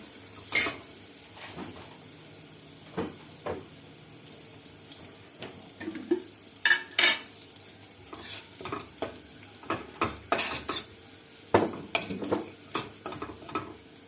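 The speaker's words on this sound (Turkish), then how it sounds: "Şöyle bir nanenin kokusu, sarımsağın kokusu çıkana kadar kavuracağım." Mint and garlic sauté in oil in a pan. A spoon stirs and scrapes in soft, irregular strokes over a faint sizzle, close by and fairly quiet, with no talk.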